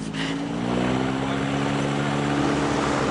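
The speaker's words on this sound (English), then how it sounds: "It's a bite-sized hovercraft called the Slider" A small Slider hovercraft starts up with a loud, close propeller roar, its steady engine drone and fan whir holding throughout.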